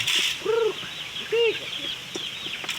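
Two short nasal quacks from nearby birds over an outdoor background hiss, with a faint rustle as they are driven off.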